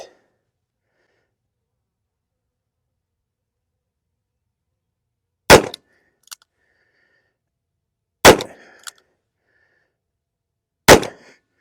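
A Smith & Wesson Model 27 revolver fires .38 Special rounds at a target: three sharp, loud reports spaced a few seconds apart, each followed by a short ringing tail and silence in between.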